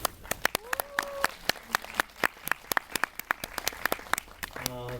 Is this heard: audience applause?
yes